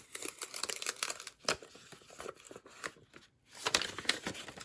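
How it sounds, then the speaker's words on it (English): An old paper envelope is handled close up, giving quiet, intermittent crinkles and rustles in short bursts with a brief pause. "Here's an old envelope."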